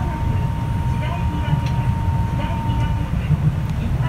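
A steady rumble of a Kanazawa Seaside Line train in Yokohama, heard on board, continuous low roar with a faint high whine, taking a sharp curve at 40 km/h and passing another train.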